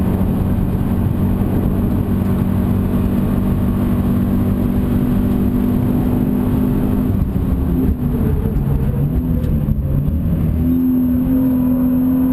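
A Subaru BRZ on the Eastern Creek race track pulls hard out of a corner, its engine note droning and rising steadily as it accelerates, loud and close from onboard with no talk.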